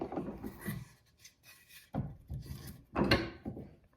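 A Japanese saw crosscuts a piece of wood in short bursts of rasping strokes, three distinct groups separated by brief pauses, close and dry, with no talk.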